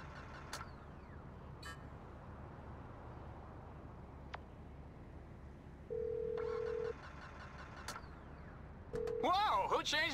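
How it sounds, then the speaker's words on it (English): A mobile phone ringtone in Grand Theft Auto V chirps in two short bursts, the second rising into a warbling melodic tone, over a steady low background hum of the game. "Whoa, who changed my ringtone?"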